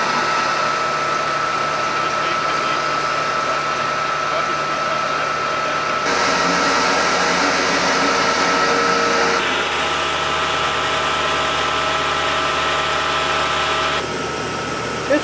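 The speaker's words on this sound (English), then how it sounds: "They are pumping out the herring right now. This is the pump that come up herring" A fish pump on a herring packer sucks herring out of the fish hole, giving a steady, loud mechanical drone with a constant hum that shifts slightly in level a few times.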